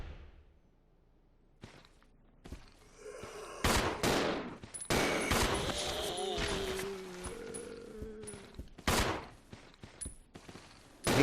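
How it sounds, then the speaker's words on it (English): Gunfire in Resident Evil 0, several loud, sharp shots and bursts at irregular intervals mixed with clatter and footsteps, interspersed with talking. "shooting off camera"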